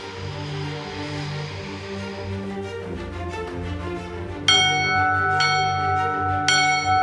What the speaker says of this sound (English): It's the flight's tradition to ring a World War II scramble bell to let the ground crew know how many aircraft are ready to fly.